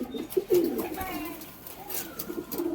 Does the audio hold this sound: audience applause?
no